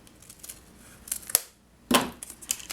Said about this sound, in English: take your scissors and snip it out